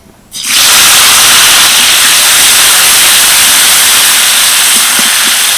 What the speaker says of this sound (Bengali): এবার দিয়ে দেবো একটা বড় সাইজের টমেটো কুচি